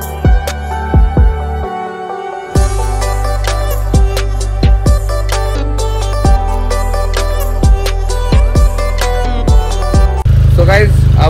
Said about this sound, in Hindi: वसीम भाई निकाल रहे हैं बाइक, मेरे वाली वार्म अप हो चुकी है